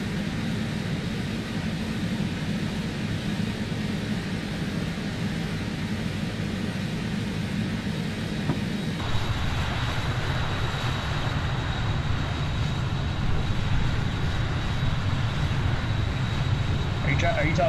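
Simulated BAE 146 jet engines in Microsoft Flight Simulator 2020 drone as a continuous cockpit roar and whine, steady and fairly loud, with a faint high tone entering partway through.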